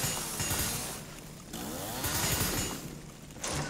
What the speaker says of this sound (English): Oh, I need to use his super chainsaw, don't I?